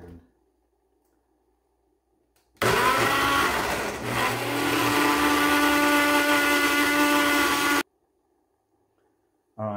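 A countertop blender whirs loudly for about five seconds while blending an organic smoothie made for the Budwig diet, starting and stopping abruptly with quiet gaps before and after.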